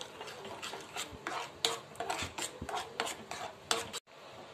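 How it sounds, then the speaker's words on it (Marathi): A spoon stirring mango pulp as it cooks down in a pan toward a jam-like consistency, with repeated soft scraping strokes against the pan, close and fairly quiet, with no talking. "4-5 मिनिटं तरी छान हे करून घ्यायचंय मँगोचं, म्हणजे आपलं थोडंसं जॅम सारखं होऊन जातं"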